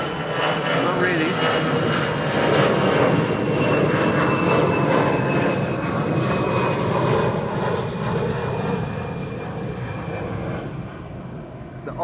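Lufthansa aircraft engines at Amsterdam Schiphol Airport give a loud, steady jet roar that holds for the full twelve seconds, easing slightly near the end.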